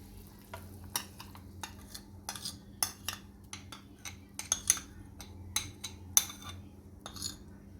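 Ground roasted spices and coconut paste go into a hog plum curry and get stirred, with a string of clinks, scrapes and spoon taps against the pot over a low simmering hiss, close and fairly quiet.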